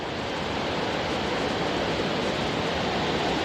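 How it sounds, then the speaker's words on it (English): Fast-flowing river water rushes past in a constant, loud, broadband roar, steady and close throughout with no other sounds. "The water is cooking through here."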